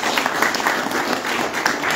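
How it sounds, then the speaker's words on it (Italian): An audience at an awards ceremony for a nativity scene art exhibition applauds with dense, continuous clapping that stays steady and fairly loud throughout. "Un applauso a tutti quanti"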